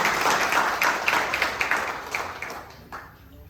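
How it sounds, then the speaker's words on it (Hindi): An audience at a community conference in Guna applauds, dense clapping close and loud that rises in scattered peaks and then fades out toward the end. "एक बार जोरदार तालियां।"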